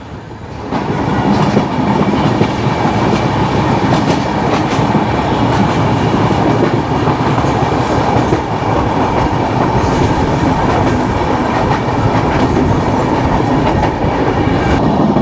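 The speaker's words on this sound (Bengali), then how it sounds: "আমাদের ট্রেন ঢুকতেছে বিমানবন্দর রেলওয়ে স্টেশন" An express train pulls into the Airport railway station in Bangladesh with a loud, steady rumble and a rolling clatter of wheels that goes on without a break, and no voices can be heard.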